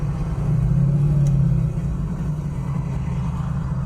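A 1967 Ford Mustang with a V8, probably a 350 or 400, rumbles steadily as it drives. The low engine drone is loud and close, with no one talking over it.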